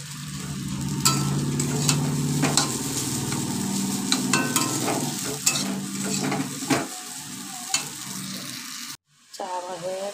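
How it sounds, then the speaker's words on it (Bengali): Chicken chow mein reheating in a home kitchen pan, a steady sizzle and fry with sharp scraping stirs and clinks at irregular intervals before a brief cut, followed by faint voices. "চাউমিনটা চিকেন চাউ আছে, গরম করে নিচ্ছি চাউমিনটা একটু।"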